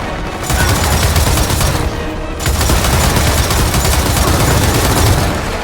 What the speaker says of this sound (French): que quelqu'un prenne cette tourelle et m'arrose tout ça